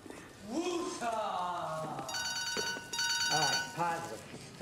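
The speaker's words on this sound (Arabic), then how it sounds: "موبايلك بيرن" A mobile phone rings in a scene from an Egyptian comedy film, its repeating electronic melody tones playing over and between voices talking close by.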